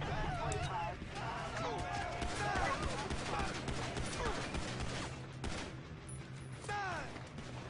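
Gunfire in the video game GTA 5 as police are shot: bursts of rapid shots crackle through a busy game mix with scattered sharp pops, while a person talks over much of it.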